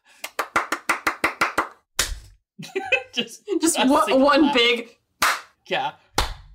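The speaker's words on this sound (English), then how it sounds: "I guess. I clap." About nine sharp hand claps in a quick, even rhythm, close and loud, followed by talk and light laughter.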